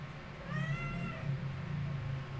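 A cat meows with a rising, drawn-out cry, close by, over a steady low background hum.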